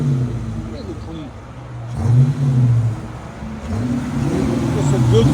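A Chrysler 300 C/S 5.7L V8 engine rumbles and revs up in bursts, heard up close from inside the vehicle, with a deep throaty growl rising and falling.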